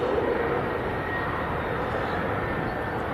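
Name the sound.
Ryanair jet from Alicante just landed at Leeds Bradford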